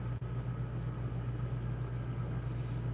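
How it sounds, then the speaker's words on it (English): A wood lathe runs with a chattering tool being tested, giving a steady, low electric motor hum that holds evenly without any break. "This is a test one on the lathe."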